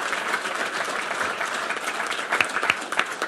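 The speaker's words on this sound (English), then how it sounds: "A round of applause for our panel" A conference audience applauds a panel, a dense, steady wash of many hands clapping together, continuous and fairly close for the whole stretch.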